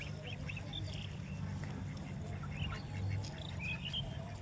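Ducks out on grass give scattered, fairly faint quacks and calls over a soft outdoor background, with no clear talking.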